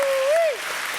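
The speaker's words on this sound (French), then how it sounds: "Ça mérite quelques applaudissements." A television talk-show studio audience applauds in a steady wash of noise, while a sustained whistle-like tone holds, rises briefly, then slides away over the first half.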